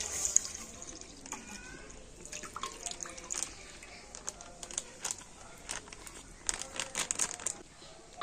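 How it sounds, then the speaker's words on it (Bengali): Packaged liquid milk, 500 ml, is poured from its packet into a wok for kheer bhapa pitha: a quiet, steady liquid trickle with small drips, set against packet crinkling and light kitchen clatter. "পাঁচশো লিকুইড দুধ নিয়েছি মানে প্যাকেটের লিকুইড দুধ তো কড়াতে দিয়ে দেবো"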